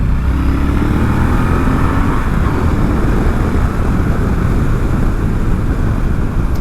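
A Triumph T120 motorcycle with very tall gearing hums under steady wind rush while being ridden, its engine drone continuous and close beneath buffeting air.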